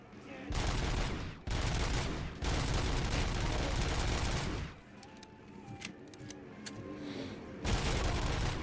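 Full-auto gunfire in the Robocop video game: long, loud sustained bursts of rapid shots with short breaks in between, followed by quieter game sounds and then another burst.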